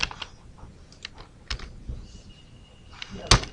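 Quick, close clatter of keys on a computer keyboard as CSS code is typed, irregular bursts of tapping with short pauses and a sharper keystroke near the end.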